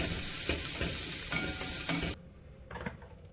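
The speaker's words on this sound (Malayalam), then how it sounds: "രാജ്മയ്ക്ക് വേണ്ടിയിട്ട് എണ്ണ ഒഴിച്ച് 1 ടീസ്പൂൺ ജീരകം ഇട്ടു." Cumin, ginger, garlic and onion fry in oil in a pan, giving a loud, close sizzle with rhythmic stirring scrapes before the sizzle abruptly drops to a quieter level with a few clinks.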